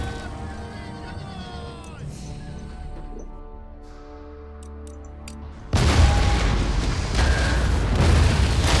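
Cannon volleys fired at dervishes in the strategy game Empire: Total War, heard as a deep rolling boom that swells into sustained roaring battle noise, loud and dense, with game sounds beforehand.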